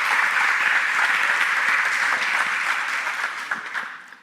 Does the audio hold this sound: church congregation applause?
yes